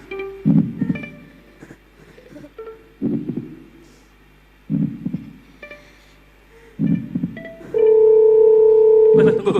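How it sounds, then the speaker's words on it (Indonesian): An electronic phone tone on a theater stage sounds as a steady, held beep near the end, after rhythmic low thumps and brief beeps with talking nearby. "Tunggu. Ada telepon. Tunggu dulu."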